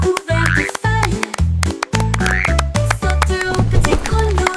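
Croaking frog sounds ring out within a lively French children's song about little jumping frogs by a pond, mixed with bouncy instruments and a steady bass beat throughout.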